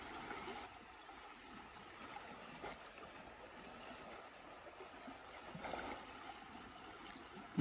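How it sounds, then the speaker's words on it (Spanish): The river at Santa María Xochixtlapilco, running full after heavy rain, rushes and gurgles steadily in a broad, even wash of water noise with no voices. "Tiene bastante agua el río"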